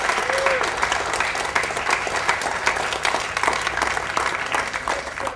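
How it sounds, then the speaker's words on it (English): A film crew applauds themselves as a shoot wraps, a sustained round of clapping and cheering from a sizable group on set, steady and fairly close, with scattered voices and a brief whistle early on. "You should applaud all of yourselves very much."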